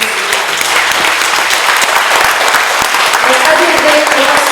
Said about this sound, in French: je voudrais vraiment qu'on applaudisse tous les gens qui s'investissent ici parce qu'ils travaillent pour nous.